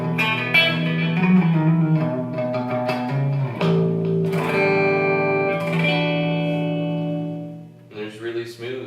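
Schecter electric guitar with a large mahogany body and EMG pickups gives warm, smooth, rounded tones through effects with reverb, playing sustained chords and notes almost continuously and loudly, with a brief dip near the end.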